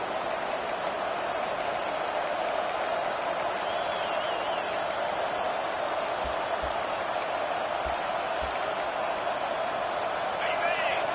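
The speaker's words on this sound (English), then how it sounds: "This crowd trying to make life miserable for this offense" Steady, dense stadium crowd roar fills an NCAA 25 college football video game on PS5 against Nebraska, a constant wash of noise with a few faint thumps and whistles, while commentary voices speak over it.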